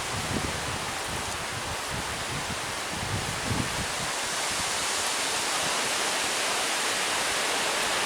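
Water from a garden hose spraying steadily onto newly planted tomato plants in a garden, a continuous broad close hiss with faint rustling and no talking.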